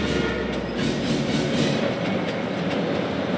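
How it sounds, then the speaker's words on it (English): A train rolls steadily along its tracks in Spider-Man: Miles Morales, a continuous loud rumble with faint rhythmic clatter and no voices. "The train's not stopping."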